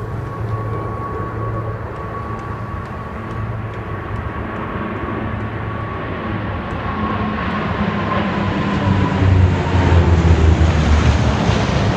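Huge military aircraft pass overhead during a Navy Day parade rehearsal above Bolshoy Prospekt, a loud continuous engine roar that swells steadily stronger over the whole stretch, with no talking.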